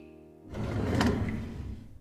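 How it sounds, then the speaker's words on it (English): A bottom drawer sliding open in a single continuous rumbling scrape that swells and fades over about a second and a half, close and moderately loud with no talk. "Open the bottom drawer."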